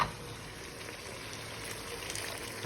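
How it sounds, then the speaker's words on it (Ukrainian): Boiling water poured from a kettle into a pot of plov with barberry, a steady quiet liquid rush and bubbling that runs alone and unbroken for the whole short stretch. "Заливаємо кипяток."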